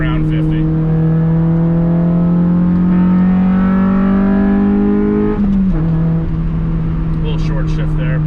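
Honda Del Sol engine revving inside the car, a loud droning note climbing steadily through the higher RPMs before a quick shift breaks it, then settling lower as the engine pulls on.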